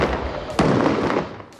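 A cannon on a decommissioned 20-ton tank fitted with armour plating fires once: a sudden loud blast followed by a rolling rumble that slowly fades, with a second softer thump at the very end.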